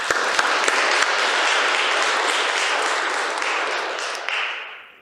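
Audience applause at a municipal birthday concert ceremony for Järva parish, a full, steady wash of clapping from a large hall crowd with a few sharp near claps at the start, fading out at the end.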